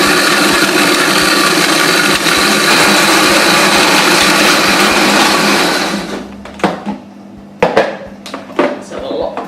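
Dates whiz loudly in a blender for a raw vegan cheesecake, a steady harsh grinding roar that stops after about six seconds, followed by scattered knocks and handling clatter.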